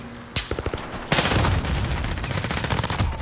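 A shooter video game erupts with a quick burst of gunshots, then a loud RPG blast followed by sustained rapid gunfire, all close and harsh.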